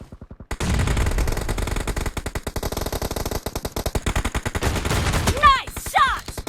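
Rapid bursts of shotgun gunfire in PUBG Mobile played on an iPhone 8, a dense string of loud sharp reports with brief gaps and faint short voice callouts near the end.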